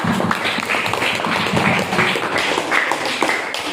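A classroom of students applauds together after a group presentation, a steady dense patter of many hands clapping close by that fills the whole stretch without pause.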